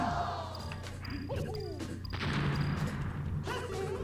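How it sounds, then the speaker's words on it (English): Bombs explode in Super Smash Bros. amid busy game sounds, with sharp crashing bursts over a continuous bed of game audio. "Throw bombs at them."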